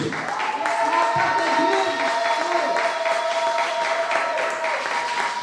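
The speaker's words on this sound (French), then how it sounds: "On va applaudir pour la gloire de Dieu." Wedding congregation in a church clapping together, a loud sustained round of applause with a steady roll of many hands and some voices mixed in.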